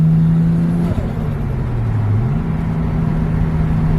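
A turbocharged Nissan R33 Skyline pulls in fourth gear, its loud, steady engine drone heard up close from inside the car, the pitch dipping briefly before holding level.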